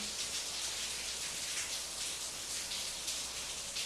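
Rain falling outside a closed room, a faint, steady hiss with no break and no other sounds.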